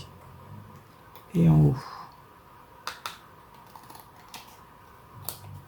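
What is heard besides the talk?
cutting paper with scissors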